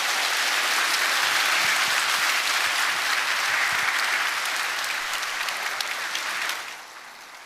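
A church congregation at a Sunday worship service gives a warm, sustained round of applause to welcoming visitors. The dense, steady clapping fills the room for several seconds and then quickly fades out near the end.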